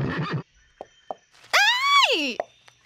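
A cartoon horse gives a loud, drawn-out neigh with a rising then falling pitch, heard close and clear. A few light hoof knocks come before it, and a brief voice comes before them.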